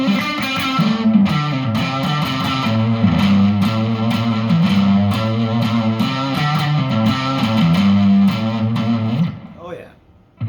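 Electric guitar through a single-coil pickup with some distortion and light reverb plays a steady, loud riff of sustained chords for about nine seconds, then fades out with a faint hum.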